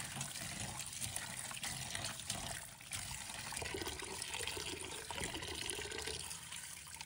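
Deveined shrimp being rinsed in a bowl of clean water, a steady close trickling and sloshing of water running throughout with small splashy bursts, no voices.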